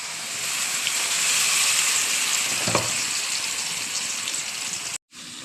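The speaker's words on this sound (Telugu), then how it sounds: "ఆయిల్ హీట్ ఎక్కాక పోపు దినుసులు, తర్వాత ఆనియన్స్ లైట్ బ్రౌన్ కలర్ వచ్చే వరకు వీటిని వేపుకోవాలి" Onions frying in hot oil with tempering spices in a pan, a steady close hiss and sizzle that runs loud and even, then cuts out abruptly near the end.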